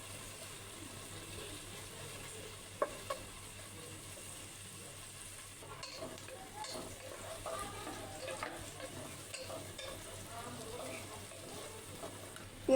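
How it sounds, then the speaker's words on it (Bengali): Chopped onion frying lightly in oil in a pan, a faint steady sizzle with occasional stirring scrapes and clicks, quiet and close, no speech. "এবার পেঁয়াজ কুচিটা দিয়ে দিলাম। হালকা ভেজে নেব, পুরোপুরি ভাজবো না।"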